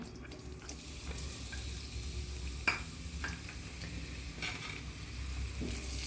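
Chopped onion and mustard seeds frying in several spoonfuls of oil, giving a steady, close sizzle throughout with one sharp pop or clink near the middle.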